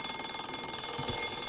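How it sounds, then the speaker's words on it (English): An alarm clock rings with a continuous, bright, rapidly pulsing electronic tone, loud and steady throughout with nothing else heard. "a sound that is desperately familiar to most of us, and of course it's the sound of the alarm clock"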